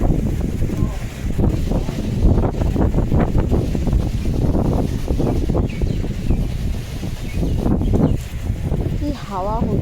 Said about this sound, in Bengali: ভীষণ হাওয়া হচ্ছে।